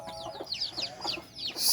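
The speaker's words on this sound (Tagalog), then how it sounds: "si Tandang ay itatali natin" A rooster clucks in quick, chirpy bursts at a rural countryside home, several short calls close by and alone, ending in a louder rising note.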